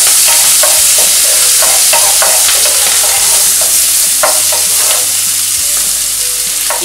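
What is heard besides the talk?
ingredients sautéing in a pan for chicken spinach lasagna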